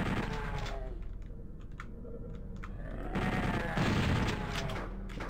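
Rapid chain gun fire in the video game Doom 64, a dense run of shots throughout with a heavier, louder burst near the end, over layered game sound effects.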